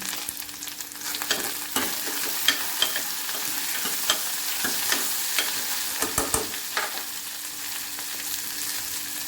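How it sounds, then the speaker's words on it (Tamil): Okra pieces sizzle and crackle as they are stir-fried in a pan, with repeated scraping strokes of a spatula against the metal over a steady frying hiss, close up with no talking. "பிசு பிசுப்பு போகிற வரைக்கும் நல்லா வெண்டைக்காய் வணக்கிக்கலாம்"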